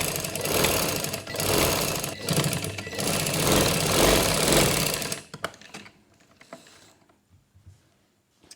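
A sewing machine stitching lace onto a garment neck design runs in a loud steady mechanical whir for about five seconds, then stops, leaving scattered faint clicks and handling noises.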